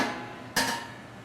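A metal basket holding a Cajun-style pork roast drops into a cooker with a single sharp metallic clank, which rings briefly before fading back into low background hiss.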